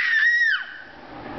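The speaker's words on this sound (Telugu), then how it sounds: "ఒరే అర్ధరాత్రి 12 గంటలకి ఈ అరుపులు ఏమిటి?" A child lets out one loud, high-pitched scream at midnight that holds briefly and then slides downward before breaking off, leaving quiet room tone.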